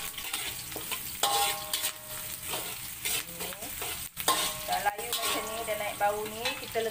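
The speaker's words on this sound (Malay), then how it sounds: "Kak Nur letak bawang merah ni tadi. Okay, tumis sekali." Shallots sautéing in a pan for a simple soy-sauce beef dish, a steady close sizzle broken by clanks and scrapes of a stirring utensil, with faint background sounds and no clear speech.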